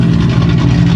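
A car engine fitted with a new cam runs loud and close under throttle, a dense steady low roar with a rough, lumpy rumble throughout.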